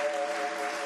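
A studio audience at the Italian TV show Propaganda Live breaks into steady applause, a dense wash of clapping that holds at an even level for about a second, with a faint steady tone running underneath.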